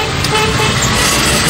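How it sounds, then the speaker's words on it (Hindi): Busy Mumbai street traffic during the rainy season, with a steady loud wash of engines and road noise heard from inside a slowly moving car, with car horns honking through it. "अभी इधर भी ट्रैफिक बहुत है, लेकिन फिर भी चल रहे हैं धीरे धीरे।"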